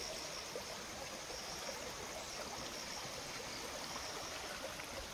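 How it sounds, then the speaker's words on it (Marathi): A small rural stream flows steadily nearby with a continuous, even rush and trickle of water, no voices, holding a constant level throughout. "हा आमचा ओढा"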